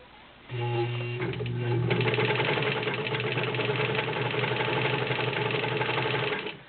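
A metal Vigorelli Robot ZZ/A sewing machine with a 1.3 amp motor stitches a zigzag, starting up after a moment and then running steadily with a fast, even mechanical whir and rapid needle clatter, close and loud, with no talking.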